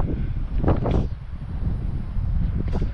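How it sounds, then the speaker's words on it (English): Gusty wind buffets the microphone at a soundside beach on the Outer Banks, with a steady broadband rush that swells in stronger gusts near the start and end. "It's a little windy today, so please bear with me."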